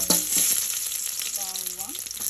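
Sunflower oil sizzling in a pan, a close, steady hiss with bright crackle, accompanied by brief tonal clinks or squeaks of a utensil.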